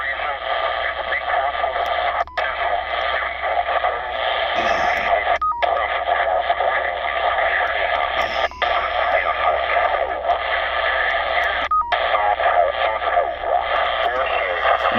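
A Cobra mini 40-channel CB radio hisses and crackles steadily as it is tuned through channels, loud static with a few brief cutouts where the signal drops between channel steps.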